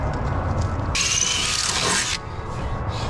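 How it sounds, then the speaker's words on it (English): A power drill bores a hole into the body of a bread truck being converted into a camper, one steady high whine lasting about a second over a low background rumble. "I hate drilling holes in vehicles, but I seem to do it a lot."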